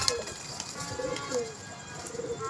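A slate-grey pigeon at a pigeon club coos softly in a few short, low phrases spread over a couple of seconds, faint against quiet background noise.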